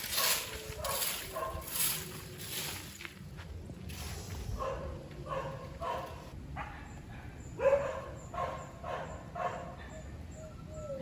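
A dog barks repeatedly in a Jamaican film scene, a run of sharp, moderately loud barks in uneven bursts over a noisy outdoor background, with a few scuffing steps between them.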